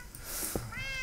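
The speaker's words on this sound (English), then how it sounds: "cat! I can hear you." A cat in the video game Minecraft gives a single short meow, faint against the quiet game background.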